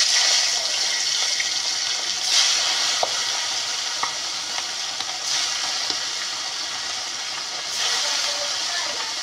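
Katla fish fries in hot oil over an outdoor wood fire during the rainy season, giving a loud, steady hissing sizzle with occasional pops.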